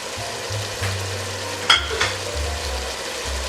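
Ginger and green chillies fry in oil in a pot for spicy beef biryani, a steady close sizzle with a sharper scrape of stirring near the middle and no talking.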